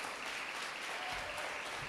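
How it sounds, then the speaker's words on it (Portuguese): Church congregation applauding the Lord during a sermon, a steady, dense wash of clapping hands that fills the room evenly for the whole stretch, with no voices standing out. "Agora aplauda ao Senhor"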